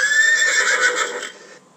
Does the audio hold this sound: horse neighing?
yes